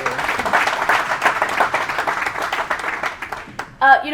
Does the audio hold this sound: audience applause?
yes